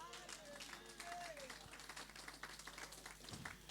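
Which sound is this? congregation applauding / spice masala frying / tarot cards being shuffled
congregation applauding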